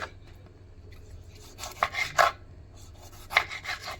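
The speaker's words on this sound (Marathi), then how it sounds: "टमाटर घेतलेला आहे याला मी असं कापून घेणार आहे बारीक कापायचं असते" A knife cuts a tomato finely on a cutting board, giving several close, rasping strokes with short scraping bursts and occasional taps, while faint room noise sits underneath.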